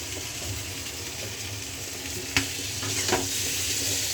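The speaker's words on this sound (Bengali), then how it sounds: "দেখুন লঙ্কাটা ফাটছে, ফটফট করে ফেটে যাচ্ছে লঙ্কাটা" Chili pieces fry in hot oil in a fish curry being cooked with added turmeric, giving a steady sizzle with a couple of sharp pops and crackles near the middle, close by and without talking.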